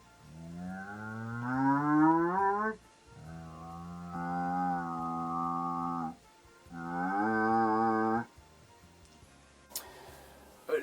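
A cow lets out three long, drawn-out moos in succession, the first rising in pitch, each loud and close with brief pauses between, followed by a faint rustle near the end.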